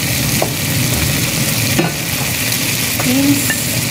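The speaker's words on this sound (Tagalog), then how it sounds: "Ayan guys, nilagay ko na ang sibuyas." Plenty of sliced onions fry in hot cooking oil for chicken maraq, a loud, steady hiss close by, with faint stirring scrapes and a brief clink of the utensil near the end.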